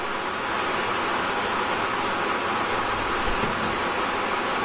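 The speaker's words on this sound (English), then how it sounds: "The noise you can hear is a weir in an unusual form of a" A steady, broad roar of water rushing over a V-shaped river weir pours without a break, loud and constant close by.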